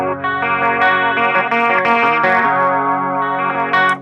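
Electric guitar chord played on just the lower strings through chorus and distortion effects, ringing loud and sustained for about four seconds with restrikes and no talk.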